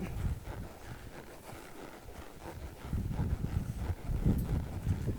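Ms. Purina, a horse under saddle, moves along at a quickening pace with a soft, muffled thud of hooves on the ground, rising a little louder in the second half, mixed with wind rumble and no talking.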